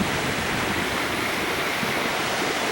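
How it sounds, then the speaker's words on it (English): A Yosemite waterfall roars from near its top, a loud, dense, unbroken rush of falling water that stays constant throughout, with no voices. "This is the top of the waterfall. Yes, that's the waterfall."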